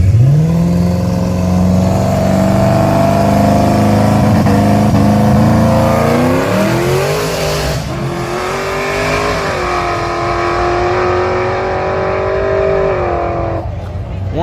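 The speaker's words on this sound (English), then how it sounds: "He making a pass by himself with this turbo" A turbocharged street car makes a solo drag strip pass at a local track, its loud engine holding one steady droning pitch, then climbing through rising shifts before cutting off near the end, with people talking over it.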